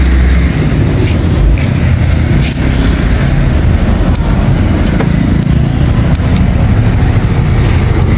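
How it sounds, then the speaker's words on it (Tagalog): A motorcycle rides through road traffic on the way back to Cebu from the Argao fiesta, with a constant loud engine and road roar close by and other vehicles passing. "nakasakay na tayo sa motor and ready na tayo mag-pass"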